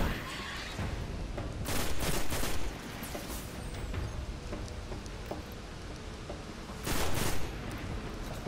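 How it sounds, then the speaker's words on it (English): Gunfire from a powerful gun in the video game Destiny on PS4 sounds as loud, dense rapid bursts amid constant game noise, with a couple of heavier surges standing out. "Oh, that's a powerful gun."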